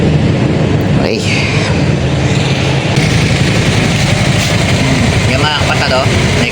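An original condenser fan on a Toyota Corolla with a 2E engine runs with a steady whirring drone, loud and close, with handling noises and a brief squeak.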